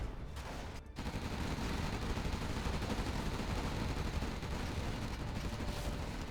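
Artillery and gunfire in the real-time strategy game Generals Evolution, a dense, continuous roar of overlapping shots and explosions that barely lets up, loud and close, with no voices.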